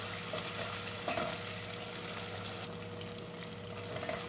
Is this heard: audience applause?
no